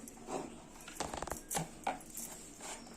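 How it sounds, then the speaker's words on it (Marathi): A knife chopping bharangi leaves, a wild leafy vegetable, on a board: a few soft, irregular cutting taps with short gaps between them, faint and close. "तर आता आपण भाजी चिरून घेऊया"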